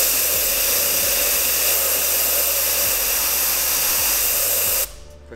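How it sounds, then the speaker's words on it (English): Compressed air blows in a steady loud hiss over a freshly TIG-welded titanium pipe to cool it, a low pulsing hum beneath, cutting off abruptly near the end. "quick little blow with air"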